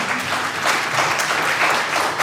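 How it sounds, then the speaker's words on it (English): A round of audience applause for candidates at a Biloxi Ward 2 candidate forum, many hands clapping in a dense, steady wash, loud and sustained from start to finish without talk. "One more round of applause for all of our candidates, ladies and gentlemen."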